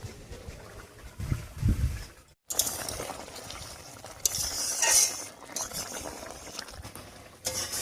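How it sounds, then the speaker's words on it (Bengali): A spoon stirs magur fish curry in a pot after the lid comes off, giving soft scraping and gentle bubbling, close and fairly quiet, with a short pause partway through. "এবারে ঢাকা খুলে একটু নাড়াচাড়া করে দিচ্ছি"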